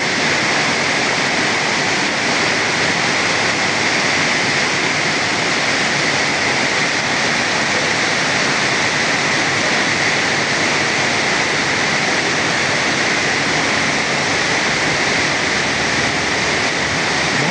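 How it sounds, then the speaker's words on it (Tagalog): Heavy rain pours down in a dense, unbroken hiss that stays loud and even from start to finish, with no voices. "Tugas uwan bro."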